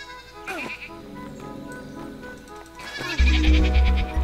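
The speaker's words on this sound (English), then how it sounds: "What's up with these sheep?" Sheep bleat in Superbrothers: Sword and Sworcery EP, a few close, wavering calls over a gentle musical backdrop, the last one louder with a low thump beneath it.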